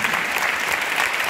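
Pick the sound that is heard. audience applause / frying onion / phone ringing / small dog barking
audience applause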